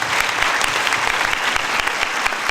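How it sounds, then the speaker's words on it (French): Audience applause for a historian at a film premiere in a theatre, a dense, steady wash of clapping from a large crowd, loud and continuous throughout. "que je vous demande d'applaudir aussi"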